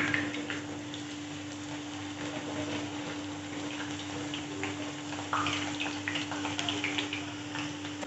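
Sliced tapioca chips frying in hot oil over a moderate flame, a steady close sizzle and crackle with a constant hum underneath, running evenly for the whole stretch.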